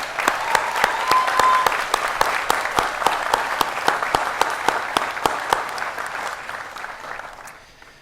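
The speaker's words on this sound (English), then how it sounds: "Round of applause." Sustained audience applause at a college commencement ceremony, steady dense clapping from a large crowd that slowly fades out toward the end.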